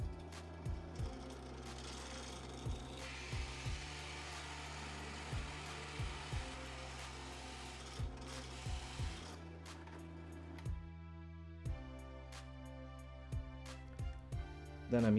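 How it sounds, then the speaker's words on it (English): A drill press bores hinge holes in a wooden door with a steady, loud motor drone and a grinding bite. The tone then drops away, leaving the motor hum and a few knocks. "taking that over to the drill press and drilling out the place where the hinge is going to go"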